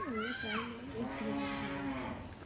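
A cow and calf moo close by, one call rising and falling briefly, then a longer drawn-out low moo, both clear and loud with faint background activity.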